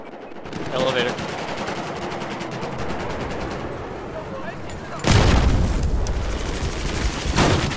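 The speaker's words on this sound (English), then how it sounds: "Nope, that was a C4 trap." Battlefield 4 gunfight with heavy machine-gun fire throughout, then a sudden loud blast like a C4 trap detonating about two-thirds in, followed by continued rumbling booms.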